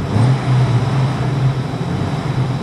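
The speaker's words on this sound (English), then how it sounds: "Rev it up." A Jeep engine held at raised revs during a low-voltage gauge check, a steady, loud droning hum with a low, even tone and little change over a few seconds; no talking.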